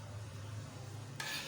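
Onions tipped into hot ghee for black pepper chicken, a loud sizzling hiss bursting in near the end after a low steady hum from the stove.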